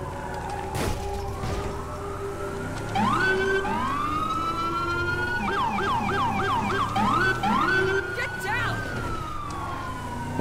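An ambulance siren in GTA V with the LSPDFR police mod wails and yelps with rising and falling tones over engine noise, loud and steady, with a voice talking briefly.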